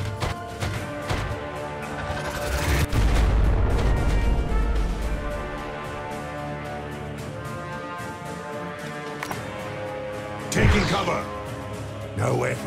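Booming grenade blasts and scattered gunfire in a Warhammer 40,000: Regicide battle, with a heavy explosion early and another later, under game voices and a steady music bed.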